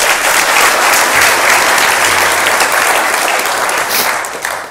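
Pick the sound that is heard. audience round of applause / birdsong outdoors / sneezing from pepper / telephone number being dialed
audience round of applause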